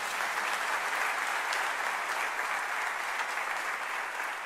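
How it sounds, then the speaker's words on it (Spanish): A church congregation claps loudly and continuously, a thick, even wash of applause sustained for several seconds. "denle un fuerte aplauso al Señor."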